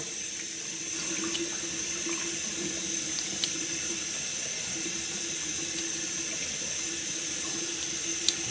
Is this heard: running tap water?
yes